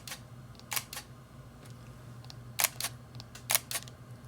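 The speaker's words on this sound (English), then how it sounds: "nice shutter sound. Let me cue it up here." A Fujifilm X-E1 camera's shutter fires in three quick pairs of crisp mechanical clicks, each pair a double snap, spaced out over a few seconds close to the microphone against a low steady hum.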